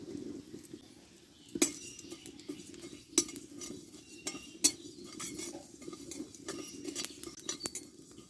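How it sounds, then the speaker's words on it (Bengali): Whole cumin and fennel seeds dry roasting in a hot kadai, a faint soft rustle of seeds stirred around the pan, punctuated by several sharp metallic clinks of the spoon against the pan. "এতে গোটা জিরের মৌরিটা আমি দিয়ে দেবো দিয়ে ভেজে নেব ভালো করে"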